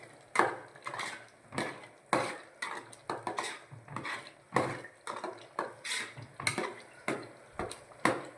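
Tuver dal simmering in a pot is stirred as chilli and spices go in, a spoon scraping and knocking against the pot in a steady run of sharp strokes, with no voices.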